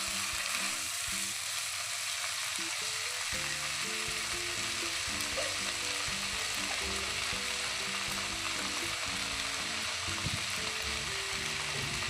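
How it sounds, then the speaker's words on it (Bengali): Chicken pieces fry in a pan for a curry leaf, garlic and pepper chicken, giving a steady, dense sizzle that runs unbroken throughout with faint stirring scrapes underneath. "চিকেনটা কিছুক্ষণ ভাজা করে নেব।"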